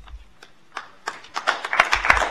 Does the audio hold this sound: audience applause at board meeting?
yes